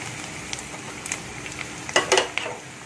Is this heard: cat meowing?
no